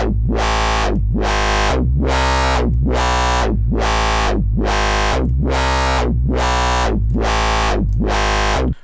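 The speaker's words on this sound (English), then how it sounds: "It kind of gives it almost like a little tiny bit of reverb on it." A buzzy synth bass from the Massive synthesizer in FL Studio repeats the same note in a steady pulsing rhythm, each hit swelling and fading with a slight room-like reverb.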